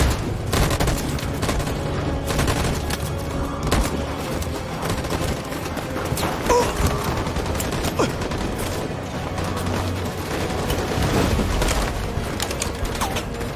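Gunfire in Detroit: Become Human keeps up as a dense, continuous volley of rapid shots and mechanical clatter, loud and unbroken throughout, with no voices.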